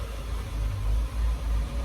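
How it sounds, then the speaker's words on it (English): A loud truck drives past outdoors, its low engine rumble swelling and pulsing steadily for a couple of seconds against a broad noisy wash, with no talking. "let me let this truck go by,"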